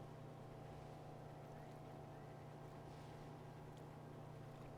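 Twin-engine boat driven in the video game Far Cry 4, a steady, loud motor drone with a constant low hum and broadband water wash running unbroken throughout.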